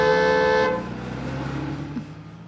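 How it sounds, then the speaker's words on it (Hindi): Car horn blaring in one loud, sustained honk for under a second, then cutting off to leave a low engine rumble and ambient noise. "सामने से कोई भी गाड़ी आए तो हॉर्न बजाना"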